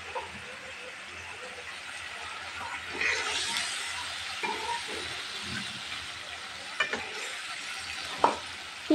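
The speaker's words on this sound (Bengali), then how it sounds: "এই যে মাছগুলো কিন্তু অলরেডি ভেজে রেখেছি, এই যে তেলাপিয়া মাছ দিয়ে দেবো" Fried tilapia pieces go into an oily, simmering curry in a pan, giving a steady close sizzle and hiss broken by a few sharp utensil clinks and stirring scrapes.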